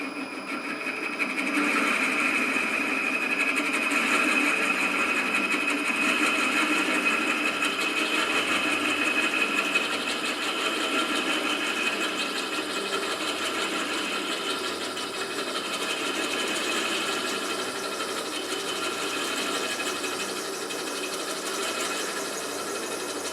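A milling machine cuts a Colchester rocker box on knee feed with the quill locked, giving a steady, loud mechanical whir with a thin high whine that holds level for the whole stretch, and no talking.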